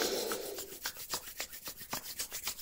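Palms rubbed briskly back and forth against each other, a close, dry rasping swish repeating in quick even strokes, alone without talk.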